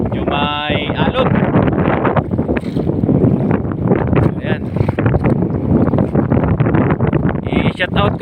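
Small fishing boat riding over choppy waves at sunset with its net gone, steady wind buffeting the microphone and engine and water rush throughout, while someone talks over it.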